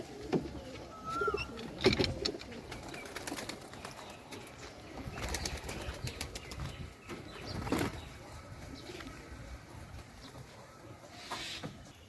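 Domestic pigeons coo inside a coop, low rolling calls repeating throughout, broken by a few sharp bursts of wing flapping and scuffling close by.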